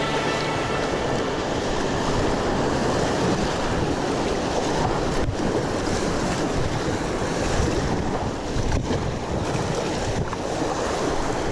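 River rapids on the Orange River roar continuously as a paddler moves through them, a loud, dense rush of water with wind buffeting the microphone throughout.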